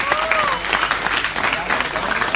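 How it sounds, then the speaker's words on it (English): Dense clapping from an audience at a demo day event fills the room continuously, with a few voices faintly calling out underneath. "I want to give a round of applause to Eman."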